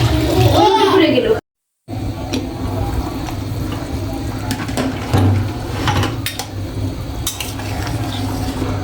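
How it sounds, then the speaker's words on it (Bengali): Water is poured over sautéed potatoes in a cooking pan for a fish, eggplant and potato curry, making a sustained hissing, bubbling wash after a brief voice at the start. "এখন আমি সামান্য জল দিয়ে ঢেকে দেবো আলুগুলো সেদ্ধ হওয়ার জন্য। জল দিচ্ছি।"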